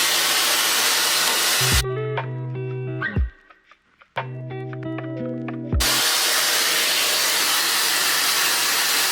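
A Luxx Air Pro 2 hair styler blows a loud, steady, close rushing hiss of air that cuts out for about four seconds, leaving a quieter tonal hum with clicks, then resumes at full strength.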